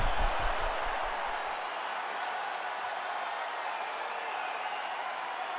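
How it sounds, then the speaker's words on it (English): Arena crowd applauding between rounds of a UFC bout in EA Sports UFC 5, a steady broadband wash of clapping and crowd noise held at an even level throughout, with a low thump early on. "So the crowd voicing its appreciation after that round."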